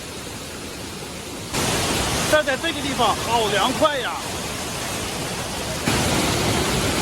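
Shuzheng Waterfall in Jiuzhaigou pours down in a steady, close, full-bodied roar of falling water that swells louder partway through, while a person speaks briefly over it.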